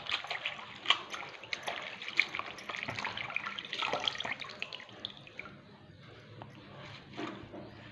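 Gongura leaves being washed under running water, a close splashing trickle from a tap with uneven bursts of splatter as the leaves are handled, easing off toward the end.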